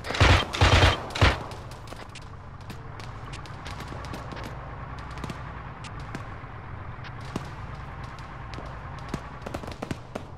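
Gunfire in the Arma 3 video game: a burst of loud, close shots opens the sequence, then scattered distant single cracks continue over a steady low rumble of battle ambience.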